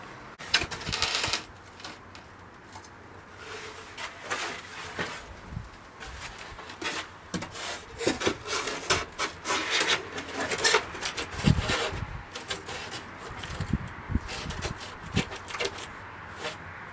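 Foam board being cut to fit small spaces during a home addition build, giving a steady run of scratchy, rasping scoring and rubbing strokes up close, with no talking.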